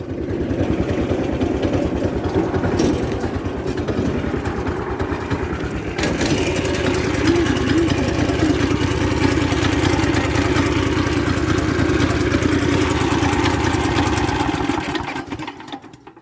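A 420cc Predator go-kart engine runs loud and close, its rough, uneven idle chugging and surging for about fifteen seconds, stumbling as it struggles, then dying out abruptly at the end.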